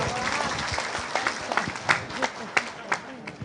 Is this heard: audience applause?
yes